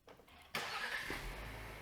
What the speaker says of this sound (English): We've also installed a remote start system on this vehicle